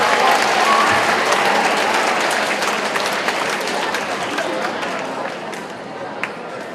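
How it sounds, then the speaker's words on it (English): Applause from a school talent show audience for two performers, a dense, loud wash of clapping that holds steady and tapers slightly toward the end, with faint voices and cheers mixed in. "one more round of applause for Noah and Lydia"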